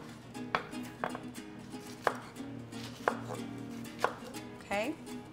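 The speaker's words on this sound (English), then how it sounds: "I'm just gonna run my knife through it" A knife chops a jalapeño on a cutting board in sharp, evenly spaced strokes, about one per second, close and clear, with a faint background hum.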